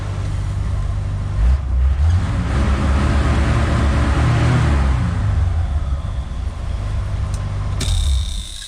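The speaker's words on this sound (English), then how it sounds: "I still don't have my exhaust set up yet, so it's not nice and loud" Loud, raw 1976 Chevrolet Nova engine running with no exhaust fitted, revving up and settling back down, a rough unmuffled rumble that fills the clip before cutting off near the end.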